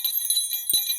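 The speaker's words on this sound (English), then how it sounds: "Bell." A small hand bell rings with quick, bright, close jingling strikes for about a second, with one soft thump near the end.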